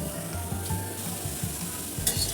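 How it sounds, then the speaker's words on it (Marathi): Chopped onions roast with salt in a pan, giving a continuous close sizzle with rhythmic scraping stir strokes repeating about twice a second. "खरपूस असा कांदा आपण भाजून घेतलेला आहे"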